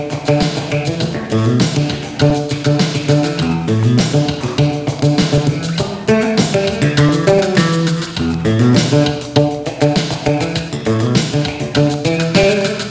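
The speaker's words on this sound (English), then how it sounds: "Another approach is to play a more guitaristic kind of part" An electric bass is played in a guitar-like part, with a busy stream of plucked notes and chordal figures in a steady groove, heard alone and close without talk.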